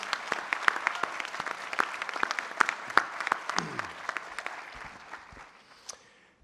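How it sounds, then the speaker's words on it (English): Scattered, crisp applause rises from the gathering at a fire department academy graduation honoring the DCFR Honor Guard, with individual claps distinct before the clapping tapers off. "About a round of applause for the DCFR Honor Guard and Captain Doug Harms on bagpipes."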